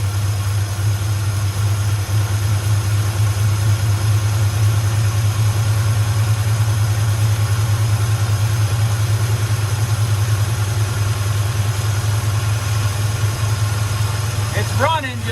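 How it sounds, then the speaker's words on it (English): A 1962 Chevrolet pickup engine idles roughly with the choke held wide open, a loud, steady low rumble that continues throughout, close by, with faint background noise. "It's running, just not that well."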